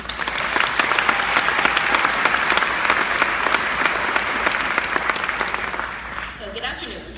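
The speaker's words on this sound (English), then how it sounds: "let's give a round of applause to Miss Shannon Lemaster Smith" Applause from a church youth ministry gathering, a dense, steady wash of many hands clapping close and loud for several seconds, thinning out at the very end with faint voices.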